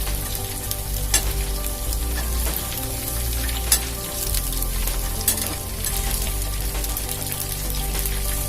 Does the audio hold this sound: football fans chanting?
no